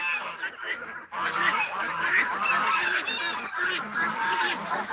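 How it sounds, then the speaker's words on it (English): Mule duck calling outdoors among a poultry flock with hens nearby, a steady run of honking, goose-like calls that is fairly loud and continuous for several seconds while people talk in the background. "That's a mule duck right there."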